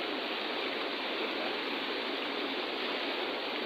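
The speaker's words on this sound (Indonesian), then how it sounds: "gemericiknya air sungai sebagai obat bagi mata yang melihatnya" River water rushes steadily along its course, a constant broadband hiss of flowing water with no pauses or voices.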